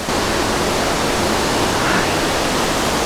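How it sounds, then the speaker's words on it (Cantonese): Standing beneath a waterfall in Sri Lanka, a loud, dense, unbroken roar of falling water and wind-driven spray fills everything, close and steady with no voices. "嚟到呢個瀑布底下咧，真係好似10號風球嘅感覺啊！"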